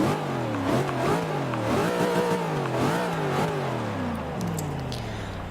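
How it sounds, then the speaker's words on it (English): A 1980s BMW M6 in Forza Motorsport 6 revs hard and loud, its engine note climbing and dropping through repeated gear shifts in a steady, close drone. "I want you guys to listen to this car and just listen to how amazing it sounds"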